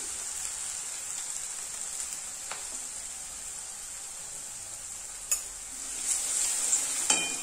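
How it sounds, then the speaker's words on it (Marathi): Chili paste and turmeric sautéing in hot oil in a kitchen pan, a steady soft sizzle running throughout with a few brief stirring clinks and scrapes near the middle and end. "आपण जी मिरचीची पेस्ट केलेली ती घालून घेऊया आणि चांगली व्यवस्थित परतून घेऊया तेलावर"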